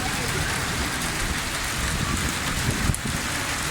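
Stormy rain with heavy hail in the Swat and Kalam hills, a dense, steady hiss of pouring precipitation with scattered sharp hits, loud and close with no pause.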